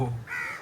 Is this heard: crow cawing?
yes